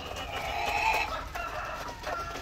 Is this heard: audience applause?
no